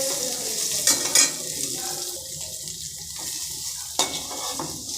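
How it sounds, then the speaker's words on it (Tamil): Onions sauté in coconut oil with a soft steady sizzle, broken by a few sharp clinks of a utensil against the pan, close by and without speech. "இப்போ வெங்காயம் போட்டிருக்கேன், கொஞ்சம் வதக்கி கொடுத்துக்கலாம்"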